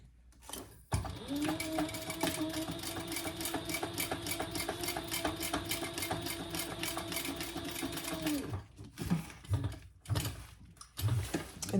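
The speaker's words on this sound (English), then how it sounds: "And sew that together at the seam allowance in the pattern." A sewing machine stitches a fabric seam joining a gusset in a purple Theratex cat toy, a rapid steady whirring run of about eight seconds with short start-and-stop bursts before and after, close and clear.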